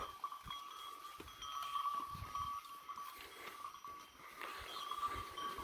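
Sheep and lambs in a Turkish corn field bleat faintly now and then over rustling and a thin steady tone, the calls brief and scattered at a distance.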